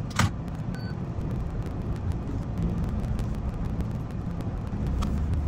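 A van engine rumbles steadily as the vehicle pulls away and drives off in a wintry Arctic setting, a constant low road drone with a brief clunk near the start and no talking.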